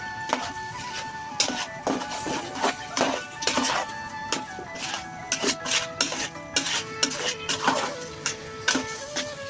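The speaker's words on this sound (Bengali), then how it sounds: "গোশের সাথে মিক্সার করতে হবে।" Rice and chicken for biryani are stirred together in a pot, giving repeated close clatters and scrapes of a utensil against the metal, uneven in rhythm and fairly quiet.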